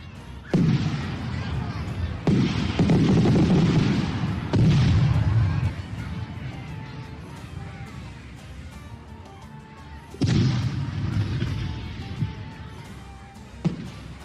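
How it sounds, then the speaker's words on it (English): Fireworks display over Doha before the opening World Cup match, heavy booming bursts and rumbling crackle in several waves, loud and dense with crowd noise beneath. "before the game even started, beautiful fireworks were displayed in Doha"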